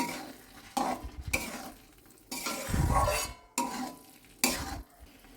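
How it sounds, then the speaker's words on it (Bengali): Palak paneer being stirred in a frying pan after butter is added, a spoon scraping and clinking against the pan in several separate bursts, with a soft sizzle underneath, close and alone. "এবার ভালো করে মিশিয়ে নেব।"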